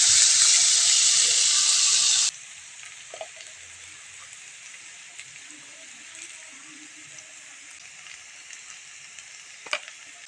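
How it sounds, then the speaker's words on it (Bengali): Vegetables frying in a pan, a loud, dense sizzle for the first two seconds that then drops to a faint, low hiss with a few light clicks, near and with no voices. "সবজিগুলো দিয়ে ভালো করে একটু ফ্রাই করে নেব"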